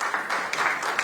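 Audience applause in a conference hall at a climate diplomacy event, a brief steady patter of many hands clapping together at moderate distance, with no voices over it.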